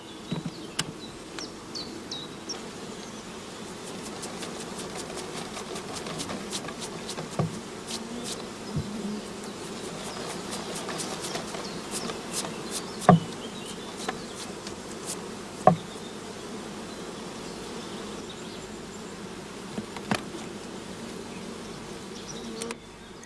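A dense mass of honeybees buzzing continuously during a shook swarm at a beehive, a steady close drone broken by occasional sharp clicks and knocks from the hive equipment.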